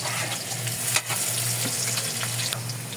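Ginger and onion sauté in a hot pan for beef balbacua, making a loud, dense, continuous sizzle with stirring scrapes and a steady low hum beneath, no talking.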